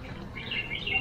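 Small birds for sale at a market in Luang Prabang, Laos, chirp in short, thin, high tweets over a murmur of background street noise.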